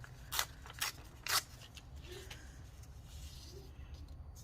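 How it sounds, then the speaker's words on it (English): Scrap material being torn by hand for cluster swatches, heard as three short, close ripping bursts in quick succession followed by quieter rustling and handling. "No, it's too big, so let's tear off some here"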